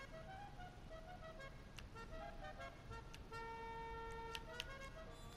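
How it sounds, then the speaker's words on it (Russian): A musical car horn from GTA V Online plays a short melodic tune of sustained tones in a lowrider garage menu, moderately loud over a steady background hum. "Клаксон стандарт, музыкальные."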